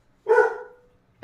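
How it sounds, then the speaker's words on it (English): A single dog bark, sharp and close, ringing briefly before silence. "can you stop barking?"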